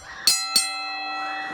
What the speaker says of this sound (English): as the bell rings.